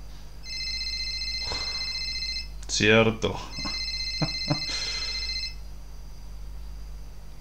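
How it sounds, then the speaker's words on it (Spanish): A telephone rings in the horror video game Childhood Fears, a steady electronic trill in two bursts separated by a brief pause, while someone speaks in the middle over a low background hum. "¿Quién atiende el teléfono?"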